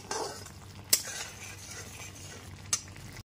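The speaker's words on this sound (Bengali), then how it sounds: "সমস্ত গুঁড়ো মশলাগুলো মিশিয়ে নেবার পর খুব ভালো মতো একটু সময় নিয়ে কষিয়ে নিতে হবে।" Spice paste being stirred and sautéed in a pan, a soft scraping, sizzling bed broken by two sharp clinks of the utensil against the pan, close and quiet.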